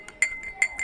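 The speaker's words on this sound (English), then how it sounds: "So I am adding sugar to the water." A spoon clinks against a glass of water as sugar is added, giving several bright, quick glassy taps in an irregular rhythm, close and crisp.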